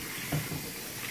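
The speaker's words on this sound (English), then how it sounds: "we're going to put a little water in there just so they can help up the steam" Water poured into a crock pot while cooking sweet potatoes, a brief splashing trickle lasting about a second, close and fairly soft.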